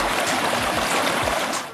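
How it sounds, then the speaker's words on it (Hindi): Cold fresh water of a mountain spring stream in high meadows, heard as a close, continuous gurgling rush with a few splashy bubbles. "ठंडे मीठे पानी के झरने।"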